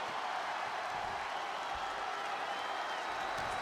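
A raucous arena crowd in the WWE 2K23 wrestling video game roars in a steady, dense wall of cheering and applause that holds at even loudness throughout.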